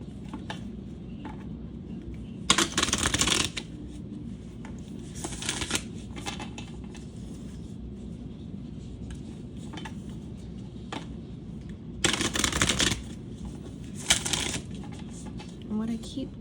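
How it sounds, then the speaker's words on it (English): Guidance cards shuffled by hand in two short bursts, a soft riffling flutter close to the listener over a quiet room, with a few lighter taps between. "I'm going to pull a guidance card on this"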